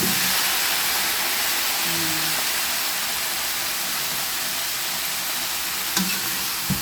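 Broccoli and cauliflower sizzle in a hot pan as they are sautéed, a loud, steady frying hiss with a few faint scrapes of stirring and no voices.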